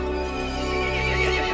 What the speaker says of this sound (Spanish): El caballo se enfureció y llamó a las otras criaturas.